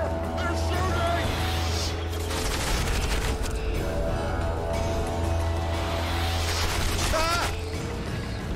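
Enemies open fire during a battle in The Witcher 2: Assassins of Kings, with a busy clatter of shots, mechanical rattles and crashes over a constant low rumble, and voices shouting beneath the din.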